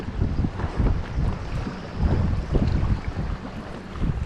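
Wind buffets the microphone while bass fishing from a boat on open water, producing heavy, gusting low rumbles that swell and fade irregularly throughout.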